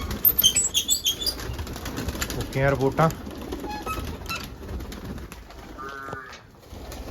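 Pigeons flap their wings in bursts near a new coop as grain is put out for them, with brief soft coos between the flutters while someone talks over much of the scene.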